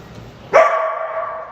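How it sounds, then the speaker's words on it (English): A dog gives a single sharp bark that rings into a short, sustained yelping tone, loud and close, after a quiet stretch of low background noise. "Did he bark at you too?"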